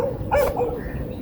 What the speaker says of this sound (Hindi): और इस कुत्ते को पता नहीं क्या तकलीफ़ हो रही है,